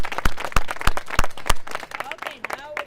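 A small outdoor group at an Arbor Day tree planting gives scattered, distinct claps at an irregular pace that thin out as voices start talking near the end.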